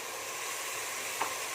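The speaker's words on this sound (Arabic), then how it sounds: "هنصفر بقى البصلايه كده" Onions fry in a pan with a continuous, even sizzle and hiss, close and fairly loud, with one brief scrape near the end.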